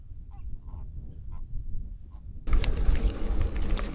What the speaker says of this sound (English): Pink flamingos.